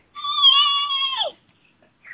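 A person imitates Gizmo from Gremlins screaming with a single high, thin, wavering squeal about a second long that drops at the end, then silence.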